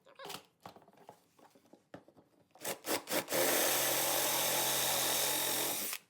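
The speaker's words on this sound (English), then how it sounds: "let's go ahead and move up to the 7/16 of an inch drill bit" A power drill fitted with a 7/16-inch bit runs loud and close for about three seconds of steady whirring, after a few light clicks and handling knocks.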